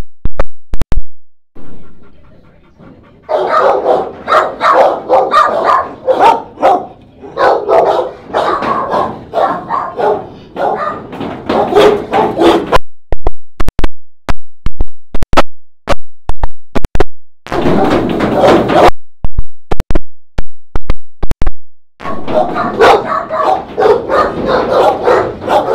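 Dog barks loudly and near, in repeated bursts over about 25 seconds, with sharp sporadic clicks and pops in the gaps between.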